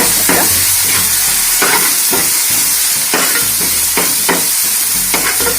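Turmeric is stirred into masala noodles in a hot pan, giving a loud, constant sizzle with repeated scraping strokes of the spoon close by.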